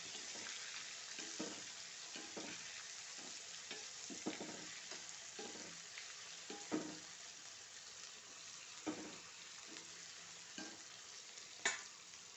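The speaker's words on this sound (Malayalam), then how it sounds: "നന്നായി വറുത്തെടുക്കാം" Steady, soft sizzling of cassava frying in oil, broken by regular scraping knocks of a utensil stirring the pan.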